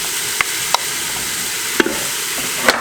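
Sliced onion and crushed garlic frying in a pan, a constant close sizzle broken by a few sharp utensil clicks as it is stirred, with no talking.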